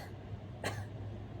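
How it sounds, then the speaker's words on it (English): A single short cough, fairly faint, in a quiet indoor reading of a children's story, with a low steady hum underneath and no speech. "please pardon my cough"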